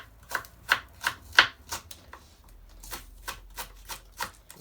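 Knife slicing two sticks of spring onion on a board, a run of about a dozen crisp, evenly spaced cuts, loud at first and then softer.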